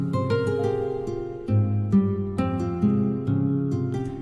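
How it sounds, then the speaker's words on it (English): A beat's melody of guitar and strings with heavy reverb, layered sustained notes shifting chord every second or so, steady and fairly loud with no voices. "And with guitar and the strings, it sounds like this."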